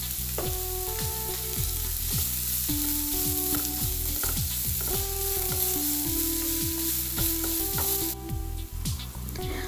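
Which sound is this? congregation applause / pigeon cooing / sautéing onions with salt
sautéing onions with salt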